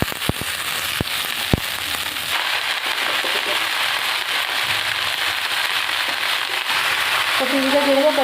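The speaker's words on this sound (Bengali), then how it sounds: "এবার আমি বাঁধাকপিটা দিয়ে দেবো।" Shredded cabbage tipped into hot oil already frying cumin seeds and chopped onion, starting with a few sharp crackles and settling into a steady, loud, broadband sizzle that runs throughout.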